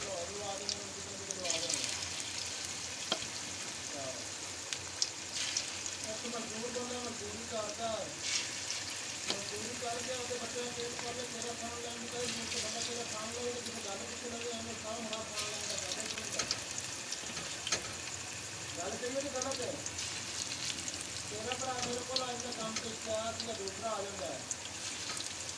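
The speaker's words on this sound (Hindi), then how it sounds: "ये हमारा घी गर्म हो चुका है। अब हम इसमें डालेंगे पकोड़े।" Pakoras in gram-flour batter frying in hot ghee, a steady broadband sizzle running throughout while a person talks over it.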